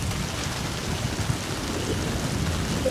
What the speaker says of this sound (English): Oh, it's thunder. It's lightning.